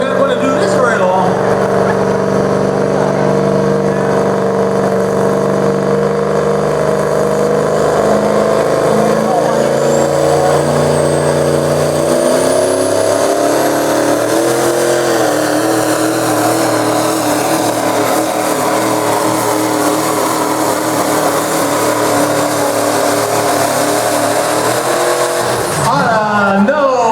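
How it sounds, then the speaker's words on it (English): A Duramax diesel truck engine at a county fair truck pull roars loudly and continuously. Its pitch climbs and shifts with revving under strain, while an announcer's voice talks over it on a PA system. "Griffith, Duramax machine from Indiana County."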